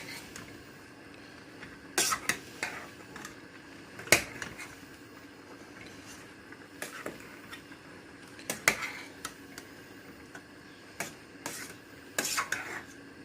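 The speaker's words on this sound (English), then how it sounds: "Give it a stir." A spoon scraping and clinking against a pot of mutton curry, with irregular sharp metallic knocks and rubs spread through the stir over a low steady background.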